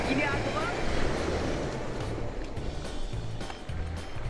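Strong ocean waves surge and wash on a beach with wind buffeting the microphone, a loud rolling roar, while a person talks nearby.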